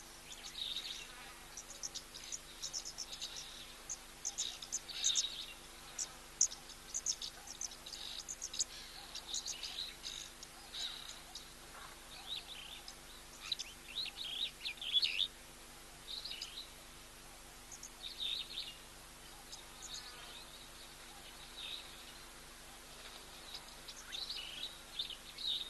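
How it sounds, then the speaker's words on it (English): Insects buzz and chirr continuously at a waterhole while birds add scattered chirps, a busy, moderately faint outdoor chorus over a low steady hum with no talking. "So gone a little bit quiet here, apart from all the insects and the birds."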